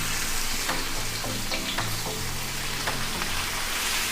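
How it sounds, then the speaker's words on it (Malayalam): Shallots and onions sauté in hot oil for karimeen pollichathu, giving a constant close sizzle with faint spatter pops and a few soft stirring clicks. "നമ്മുടെ ആ എണ്ണയിൽ തന്നെയാണ് നമ്മൾ ഈ ഉള്ളിയും സവാളയൊക്കെ വഴറ്റിയെടുക്കുന്നത്"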